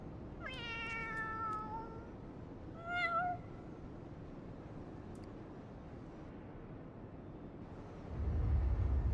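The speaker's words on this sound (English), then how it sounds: "Is this cat in heat or something?" A cat gives a couple of drawn-out meows early on, moderately close, over a steady low rumbling background, in the video game Final Fantasy XIV.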